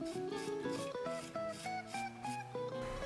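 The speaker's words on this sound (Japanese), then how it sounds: "大まかに削っていくのは金属の硬いプレート。" A hard metal plate roughly scraping and carving a surface, a close, soft rasping rubbing in repeated strokes, heard under steady background music.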